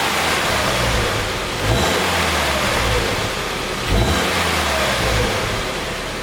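A 2013 Subaru Forester engine with the muffler deleted revved twice in quick bursts, rising and falling over a rumbling idle, close and loud.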